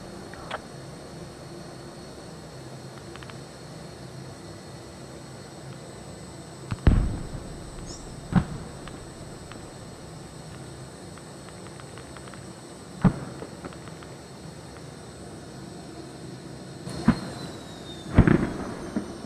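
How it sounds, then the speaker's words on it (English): Distant gunshots in the tactical shooter Squad: several sharp, isolated cracks spaced seconds apart, with a pair closer together near the end, over a steady low ambient background. "Oh, shots."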